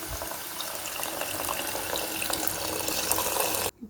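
Milk poured into a pan of bottle gourd kheer makes a steady, close liquid pour that runs unbroken for several seconds and then stops abruptly, with no talking over it.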